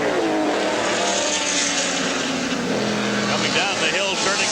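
IMSA Camel GT race cars roar around Lime Rock during the 1982 Coca-Cola 400, engines whining and shifting pitch as they pass, loud and continuous beneath a commentator's voice.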